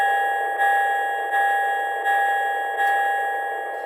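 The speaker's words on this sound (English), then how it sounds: "The diesel sounds aren't bad on this SW9 switcher, and the bell is nice and crisp." Bell of an MTH SW9 diesel switcher model train sound system, ringing crisply in an even repeating rhythm of about four strokes over a steady tonal hum, with no talk.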